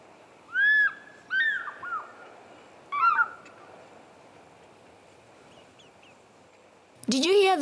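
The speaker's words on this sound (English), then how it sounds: "Did you hear those different calls made by the fish eagle?" Several loud fish eagle calls ring out in short bursts, a couple of ringing cries then yelping notes, with pauses of quiet between them and a harsh outburst at the end.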